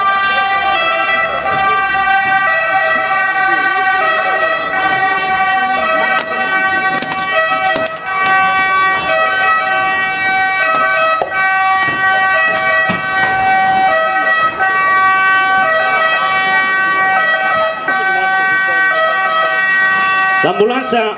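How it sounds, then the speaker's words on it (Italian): An ambulance siren wails steadily as it arrives on scene at a civil protection demonstration, loud and close throughout, with voices talking over it. "con la prima ambulanza che interviene sul posto"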